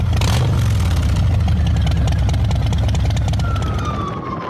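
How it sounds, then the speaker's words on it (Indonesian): Stock exhaust of a Harley-Davidson motorcycle roars in a big-bike convoy, a loud, deep, continuous engine rumble mixed with a wailing siren, the rumble easing slightly toward the end. "Inilah suara knalpot standar motor Harley Davidson, sangar dan menggelegar."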